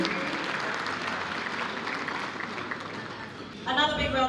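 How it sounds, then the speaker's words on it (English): A round of applause at a business awards ceremony, full and sustained for several seconds before a voice over a sound system cuts in near the end. "Give a big round of applause"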